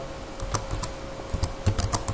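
Keys clack on a computer keyboard as a command is typed, an irregular run of quick, close, light taps in small bursts at low volume.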